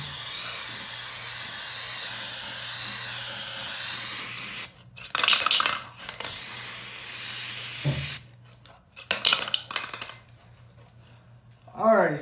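Flex Seal is sprayed from an aerosol can onto a drain in several long, hissing bursts with short pauses between them. It sounds close and loud, and the final sputters come as the can runs empty.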